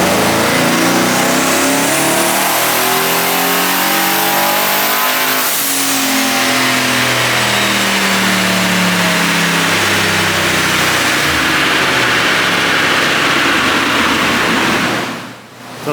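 A twin-turbo LS-swapped all-wheel-drive GMC Syclone is run through a full-throttle pull, the engine climbing loudly through its revs with a rising whine, then holding high and fading off as it winds down at the very end.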